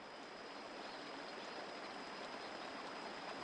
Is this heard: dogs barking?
no